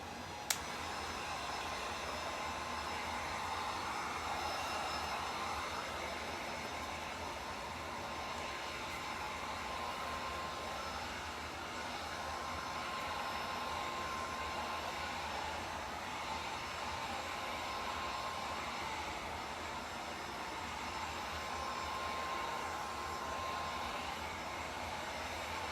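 A hair dryer drying paint on an old mirror blows a constant, loud airy whir with a faint whine, holding steady and uninterrupted throughout with no talking.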